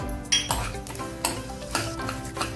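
A utensil stirs poppy seeds and almonds roasting in a pan over a medium flame. Close, rhythmic scraping strokes and clanks repeat several times over a continuous sizzle.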